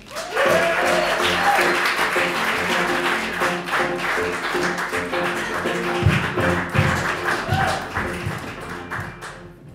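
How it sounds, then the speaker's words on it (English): Loud, sustained applause from a stand-up comedy audience welcoming comedian Jim Coughlin, a dense wash of clapping that holds steady for the whole stretch with a few sharper claps poking through. "Let's give a big round of applause to our good friend, Jim Coughlin."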